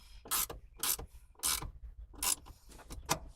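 Ratchet wrench tightening the shifter pinch bolt on a third-generation Mitsubishi Eclipse during a short shifter install, giving five or six sharp, close clicking bursts in an uneven rhythm with no talk.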